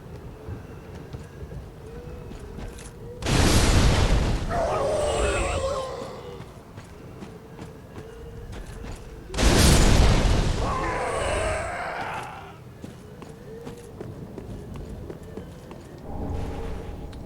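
Two heavy fire bomb explosions from the Dark Souls 3 video game burst out several seconds apart, each a loud close boom with a crackling fiery tail fading over a couple of seconds.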